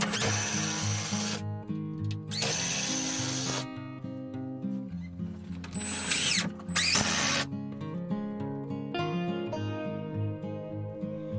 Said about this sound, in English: Now screw in the floor joists, lining up the 2x4 with the marks you made previously.